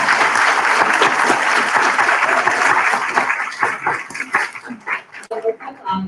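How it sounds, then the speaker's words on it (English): A school audience at a fifth grade moving-on ceremony claps steadily in a dense wash of applause that thins toward the end, with a dog barking and voices mixed in. "let's give a round of applause to our parents"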